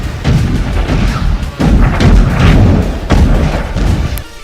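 Artillery shelling near Pokrovsk in Donetsk, Ukraine, a series of heavy, loud booms with rumbling decay, about three big blasts in quick succession.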